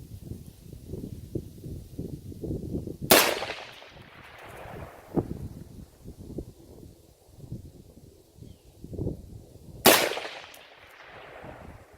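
An AR-15 rifle fires at a 6-inch steel plate target 280 yards away on an outdoor range. Two loud, sharp shots land about seven seconds apart, each trailing off, with wind and rustling filling the gaps.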